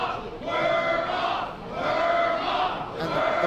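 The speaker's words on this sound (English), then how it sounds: "the crowd is asking for a worm off" A wrestling crowd at an event chants in loud, rhythmic waves, rising and falling about three times in a short span.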